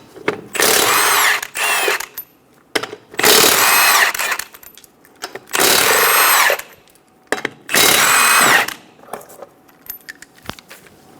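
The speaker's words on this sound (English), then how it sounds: "Using a 19mm socket, we're going to remove the 4 lug nuts." A power tool fitted with a 19mm socket spins off the four lug nuts on a 1994-1997 Honda Accord 2.2L wheel, coming in four loud, sustained whirring bursts of about a second each with short pauses between them.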